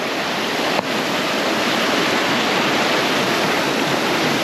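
Steady, full roar of a small Jamaican waterfall, continuous and close with no voices, one faint knock early on.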